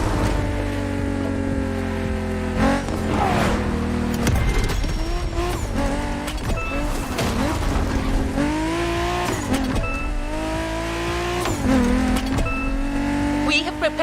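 A BMW Z4 M40i convertible's engine revs and surges in The Crew Motorfest, loud rising and falling tones with tire squeal and skids, several gear changes over a steady engine drone.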